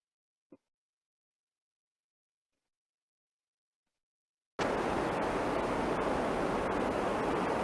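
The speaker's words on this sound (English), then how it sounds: "actually at the beach, I think, at the ocean, out of the ocean" Recorded ocean waves at the beach roll in as a loud, continuous broadband wash of surf after a long near-silent stretch, with no voices over it.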